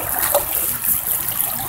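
Creek water runs steadily through a Bazooka gold trap sluice, a constant rushing wash with light splashes, close and alone.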